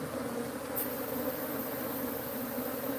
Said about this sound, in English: these are killer bees